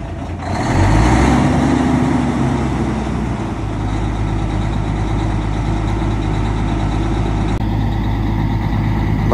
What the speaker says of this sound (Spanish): Vamos a dejar que caliente el carro